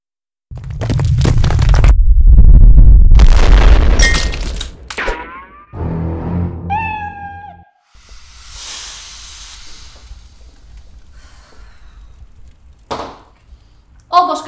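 Sound effect for an exploding kitten card from the Kaissa card game Exploding Kittens: a loud blast with hissing debris and crunching, followed by a short rising cat meow and fading rumble, with no talk.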